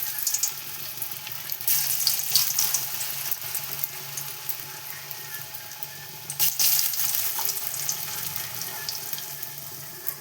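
Palak aloo french fries are lowered into hot oil, giving a continuous bright sizzle and hiss with bursts of louder crackling as pieces go in.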